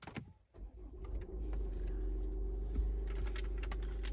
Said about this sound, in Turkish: Aracımız bakın şimdi çalıştıralım bir.